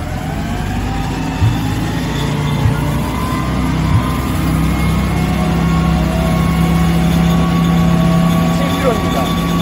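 A fire truck's engine runs steadily to drive a CAFS foam pump, a loud, low, continuous rumble with slight rises in pitch, under occasional talk.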